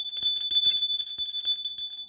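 A small bell rings steadily in a quick repeated pattern, clear and close, with bright sustained tones and no speech.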